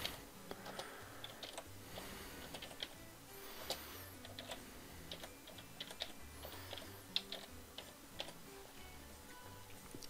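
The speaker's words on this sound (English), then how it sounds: "start typing my imaginary" Rapid keystrokes on a computer keyboard clatter steadily in irregular bursts of clicks, close and fairly quiet, with no voices.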